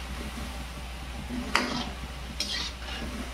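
Poha and rava snack balls deep-frying in hot oil, a steady low bubbling sizzle with a couple of sharp spoon-against-pan clinks and scrapes as they are stirred.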